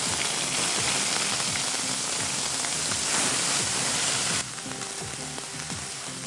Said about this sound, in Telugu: ఆనియన్ ఫ్రై అయింది, బ్రౌన్ కలర్ వచ్చిందండి ఆనియన్.